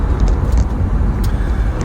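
A big Sysco trucking company truck passes nearby, a loud, continuous low road rumble with tyre and wind noise and a few faint high squeaks.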